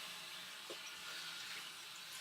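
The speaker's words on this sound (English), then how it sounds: "I'm gonna wash my hands really quick. Washing and washing and washing." Hands are washed under a running tap, a soft, steady stream of water splashing quietly for a couple of seconds with no talking.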